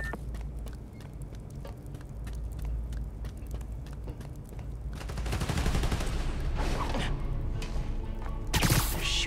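Rapid gunfire and mechanical clatter in the Spider-Man: Miles Morales video game as shots hit power-station transformers, with continuous layered bursts growing louder and denser toward the end over a steady game soundtrack.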